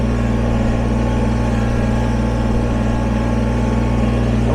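A Kubota BX23S sub-compact tractor engine runs steadily close by, a constant low mechanical hum with no revving changes and no talking.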